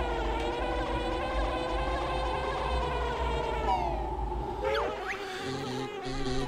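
Zubba bees buzz steadily near their hive in Banjo-Tooie, a continuous insect-like drone layered over game music for the whole stretch.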